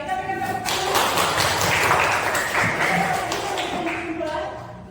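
A classroom of students applauds during a lesson, with steady clapping lasting several seconds while a voice talks over it.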